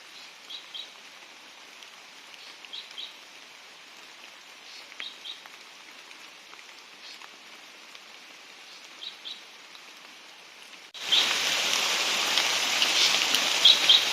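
Rain pattering onto the leaves of large forest trees, a steady soft hiss with faint bird chirps, swelling abruptly into a much louder, denser downpour near the end.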